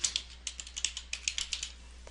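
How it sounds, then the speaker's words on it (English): Keys tapped on a computer keyboard as a folder name is entered, about a dozen quick, light clicks in an uneven rhythm, close and fairly quiet. "then type the folder name in the value field"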